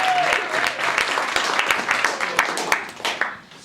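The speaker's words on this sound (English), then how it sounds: "let's do like a bit where everyone's clapping all the time" An audience at an improv comedy night claps continuously and densely for several seconds, with steady applause close and loud throughout and a faint murmur of voices underneath.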